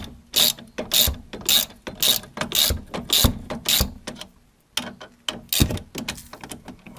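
A hand ratchet loosens a shock absorber bolt on a Dacia Duster, giving bursts of rapid, sharp clicking in a steady back-and-forth rhythm of about a dozen strokes, close and clear, with a short pause partway through.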